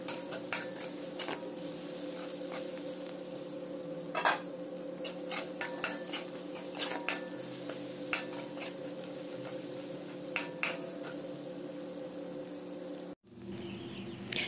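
Garlic and onion sautéing in a pan for a chicken and potato dish, heard as a low steady sizzle with frequent light clicks and taps of a utensil stirring against the pan.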